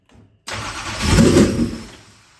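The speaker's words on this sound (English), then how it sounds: "the starter didn't sound as bad. It actually sounds like it turns over a lot faster too." A dirt track race car engine cranks on its starter, a loud close churning whir that starts abruptly and swells before fading, with no talk.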